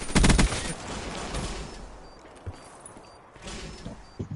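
Video game gunfire in a multiplayer match: a loud burst of rapid shots at the start, then scattered, fainter shots and background battle noise over the rest.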